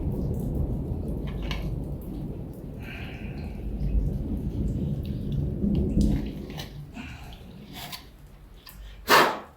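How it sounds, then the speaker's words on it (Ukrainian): Heavy rain pours down steadily over a village in Ukraine, with low rumbling, scattered sharp drips and splashes, and a louder burst near the end. "Ох, і злива у нас, скажу я вам"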